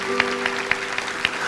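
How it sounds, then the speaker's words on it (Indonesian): Church congregation applause during a sermon, a brief burst of scattered, rhythmic clapping with a faint steady hum underneath. "Kasih tepuk tangan untuk Tuhan Yesus."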